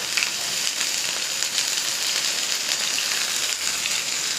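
Onion sizzling steadily in hot oil in a pan, a continuous bright frying hiss that stays loud and even throughout with no talking.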